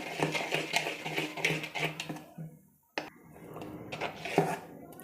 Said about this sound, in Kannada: ಇದೆಲ್ಲ ಹಾಕಿ ಚೆನ್ನಾಗಿ ಮಿಕ್ಸ್ ಮಾಡ್ಕೊಳ್ತೀನಿ